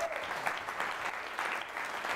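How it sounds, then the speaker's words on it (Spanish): Church congregation applauding at a men's convention, a steady wash of many hands clapping at even loudness throughout, with no voices standing out. "Dale un aplauso al Señor."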